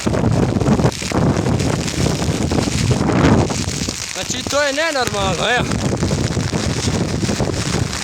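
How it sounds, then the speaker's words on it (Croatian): Strong storm wind in central Bosnia roars and buffets the microphone in heavy gusts, with someone talking briefly over the howling. "koliko to puše, to je nenormalno"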